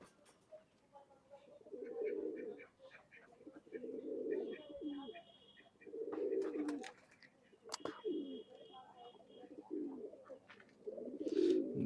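Pigeons of an old bloodline in a loft, with a female sitting on eggs, coo in repeated low rolling phrases. Several bursts of cooing come one after another, close and moderately loud, with faint chirps around them.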